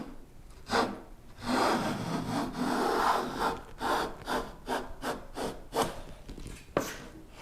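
A hand plane drawn along the edge of a wooden piece in a workshop, giving a run of quiet rasping strokes, a few longer pulls followed by quicker short ones, close and with no talking.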